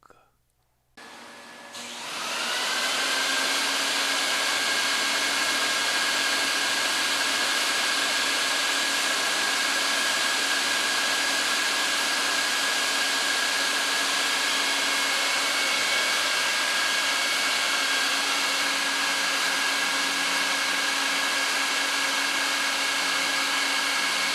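A rug-cleaning extraction machine spins up and then runs at a loud, steady whine with a constant airflow roar while it cleans an Oriental rug, with no talking.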